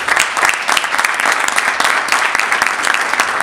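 Loud, dense applause from an audience at a public film screening, sustained and steady throughout with many overlapping claps close by and no voices over it.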